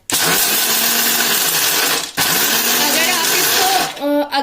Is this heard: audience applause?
no